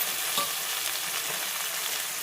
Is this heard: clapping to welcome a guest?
no